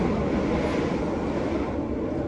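An express passenger train rumbles straight through a station without stopping, a steady, loud broadband roar with rail noise, continuous throughout without any talk.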